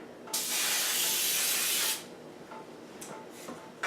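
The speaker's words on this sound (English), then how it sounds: "I'm just gonna spray real quick. Those are some pan baking spray" A steady, loud hiss of pan baking spray from an aerosol can lasting about a second and a half, followed by quieter rustling and a couple of short sprays.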